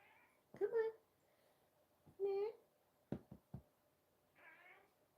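A cat named Mr. Meow lets out two distinct meows close by, then a softer, longer one later, with a few thumps between them in a quiet room.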